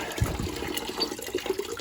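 Water drains out of a gas heating boiler during a service call, a steady close gushing flow with a brief splashy burst near the start, continuous throughout.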